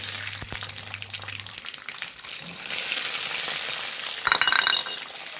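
Chana dal and mustard seeds dropped into hot coconut oil, a steady close sizzle that swells louder midway with a brief spatter burst near the end, alongside faint stirring clinks.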